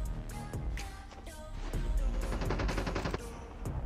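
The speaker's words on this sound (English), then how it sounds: "i hear shots" Rapid gunfire in the mobile battle royale shooter Call of Duty Mobile at a nuclear plant map area, bursts of shots crackling close and loud in quick succession with no talking.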